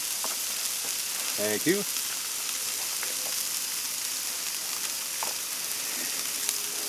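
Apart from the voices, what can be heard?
sausage frying on Blackstone griddle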